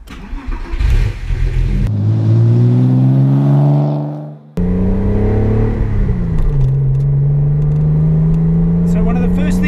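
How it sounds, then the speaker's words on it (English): Porsche Boxster exhaust droning loudly while driving, a steady engine tone rising and falling with throttle, with a brief dip mid-clip before the heavy drone resumes close and continuous. "the exhaust is extremely loud. It has such a drone on it."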